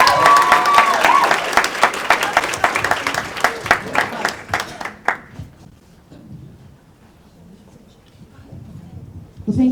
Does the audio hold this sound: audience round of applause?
yes